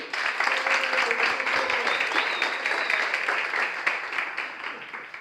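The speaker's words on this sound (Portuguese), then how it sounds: "Aplaudimos nossa campeã." Steady applause from a crowd, dense clapping sustained throughout at a constant level.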